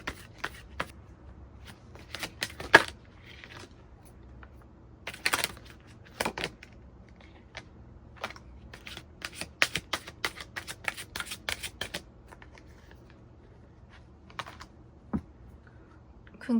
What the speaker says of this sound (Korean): 이제 로맨스 엔젤 카드 뽑아보면서 조언 카드로 마무리 해볼게요.